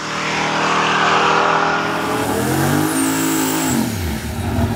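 Turbocharged, fuel-injected 540-cubic-inch big block Chevy in a C10 with a Merlin block, Turbo 400 transmission and 12-bolt rear, revving loud and close at a drag event: a sustained roar that climbs in pitch, then drops away.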